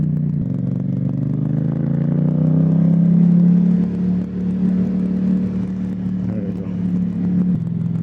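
A car engine pulls steadily in third gear through hilly Los Angeles traffic, a close, loud, continuous hum that climbs in pitch, then dips and holds near the end.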